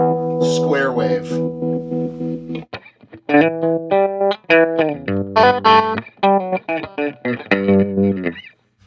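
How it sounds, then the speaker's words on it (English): Electric guitar played through a Mooer Black Truck pedal with square-wave tremolo, sustained chords chopped into abrupt on-off pulses, a rhythmic choppy pattern of distinct bursts, close and clear with no talking. "Very square wave type sound."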